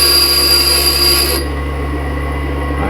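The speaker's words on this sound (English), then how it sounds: "we just want to grind away the other half of this tool that's just going to be in the way" A bench grinding wheel grinds away half of a quarter-inch ball nose D tool bit, giving a steady, loud, continuous whine with a broad hiss that eases slightly partway through, with no talking.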